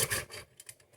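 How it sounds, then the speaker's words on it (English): Worn, overused hacksaw rasping back and forth through a workpiece while building a handmade guitar cutaway, short uneven scraping strokes close up, one stronger burst fading into lighter irregular scrapes. "You just start sawing away. Except this hacksaw has been used way too much."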